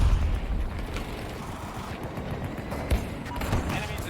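Dense, rumbling gunfire in Battlefield 2042 crackles steadily throughout, with a sharper burst near the end, under a busy mix of mechanical noise.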